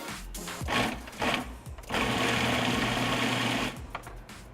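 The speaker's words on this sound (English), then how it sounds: "I can transfer them to my food processor, which will make quick work of mincing them for me" Food processor mincing charred vegetables, a loud continuous motor whir in bursts: short pulses at first, then a sustained run of a couple of seconds before it stops, with no talking.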